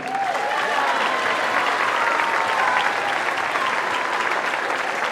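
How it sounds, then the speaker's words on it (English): Steady, full applause from a large crowd at a school band concert in a gymnasium, many hands clapping together at an even level throughout. "Round of applause for Owen Pillsbury."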